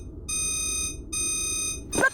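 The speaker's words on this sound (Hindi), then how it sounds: "अगर ऐसा होता तो मेरा डिटेक्टर बीप करता।" A magic stone detector in a children's cartoon gives two sustained electronic beeping tones, each lasting under a second with a brief gap between them, followed by a short sharp effect at the end.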